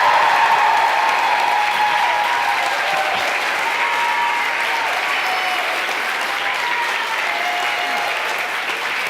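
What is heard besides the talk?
audience cheering and applauding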